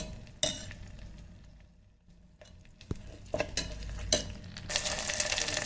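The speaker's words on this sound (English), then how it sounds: "Now we're going to add some ginger garlic paste." Ginger garlic paste added to tomatoes frying in an electric kettle, with spoon stirring and clinking against the pot over a soft sizzle that swells toward the end.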